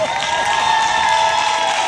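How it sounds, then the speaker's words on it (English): A live comedy show crowd claps and cheers loudly and steadily, the applause filling the room without a break for about two seconds. "I need y'all to clap y'all hands"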